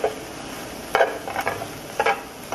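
Food sizzling in a frying pan makes a steady close hiss, broken by a few scraping stirs, with no talking.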